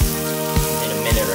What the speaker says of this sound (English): we're gonna sweat the onions a little bit